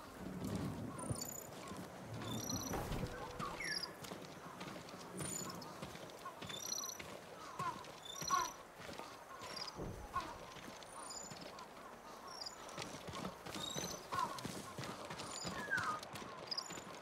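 Horse hooves clip-clopping in the video game Ghost of Tsushima, a steady, moderately close plodding gait under wind and ambient game sound, with occasional voices and soft snorts.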